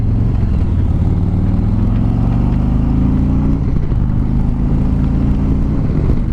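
Harley-Davidson Street Glide with a Milwaukee Eight 107 engine rides out onto the freeway, its loud, steady V-twin drone rising in pitch as it accelerates, with constant wind rush and no voices.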